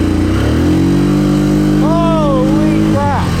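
Yamaha Grizzly ATV engine revving with the brake held in a four-wheel drive pull, a loud steady idle climbing into rising, wavering revs, with someone talking over it.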